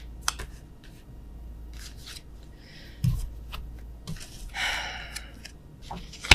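Tarot cards flipped and handled during a reading, with soft scattered snaps, swishes and papery shuffles, quiet and close, with a few faint breaths between.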